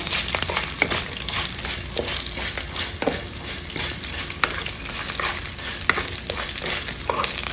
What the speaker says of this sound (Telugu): 1 స్పూన్ వేస్తున్నానండి నువ్వులు, టేస్ట్ కోసం.